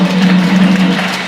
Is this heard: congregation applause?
yes